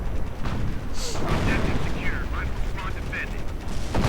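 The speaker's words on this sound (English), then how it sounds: "More artillery, though, going down from Blitzkrieg on the forward barracks." Distant artillery booms and explosions in a World War II strategy video game, short rumbling impacts over a noisy battlefield bed, fairly faint and low with scattered mechanical clatter.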